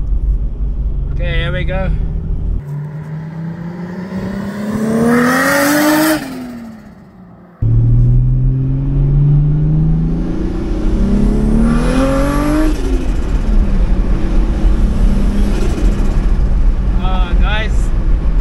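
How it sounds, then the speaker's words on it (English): A 2JZ-swapped Toyota Hilux pulls hard on a track, its engine revving up through the gears in loud, rising sweeps, with a brief lift and a tire squeal at one point, while a driver talks over the roar. "it's impossible to drive this car slow because I was just second and we hit 130 kilometers an hour"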